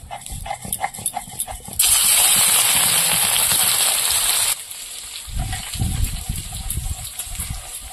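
Onions hit hot oil in a pan for a Bengali gondhoraj lemon chicken, giving a loud, bright sizzle that bursts in suddenly, holds for a few seconds, then drops back to quieter kitchen clatter.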